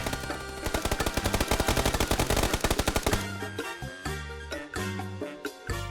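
Rapid automatic gunfire from the PUBG video game rattles loud and close in a dense burst, then breaks into shorter scattered volleys and single shots over a game soundtrack.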